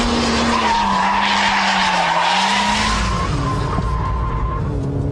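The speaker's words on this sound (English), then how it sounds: "to get it sideways without using the handbrake, you need to resort to the Scandinavian flick, followed by a bit of lift-off oversteer" A front-wheel-drive car, sideways at about 65 to 70 mph after a Scandinavian flick and lift-off oversteer, gives a long, loud, continuous tire skid with a wavering squeal over steady engine drone.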